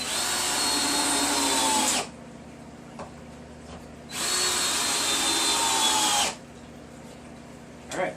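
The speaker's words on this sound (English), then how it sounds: "Put these last two screws in." A power drill drives the last two screws into a stand built from stacked 55-gallon drums, two steady whirring bursts of about two seconds each separated by a quiet pause, close by with no talk.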